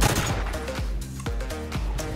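Short bursts of gunfire from a burst-fire weapon in Call of Duty: Infinite Warfare, a few sharp percussive volleys spaced through the clip over a dense, busy game mix.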